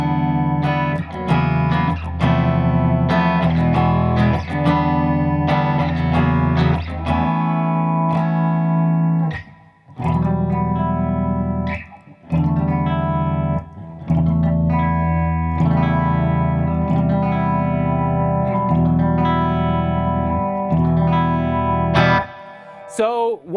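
An electric guitar plays through a solid-state Quilter Mini Reverb amp with a clean tone, ringing chords and single notes separated by short pauses, fairly loud and close.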